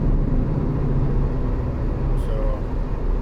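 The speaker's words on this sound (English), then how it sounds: "Turn that engine noise down a tad." Steady low truck engine drone from Euro Truck Simulator 2, a continuous loud rumble with no breaks, heard alone without talk.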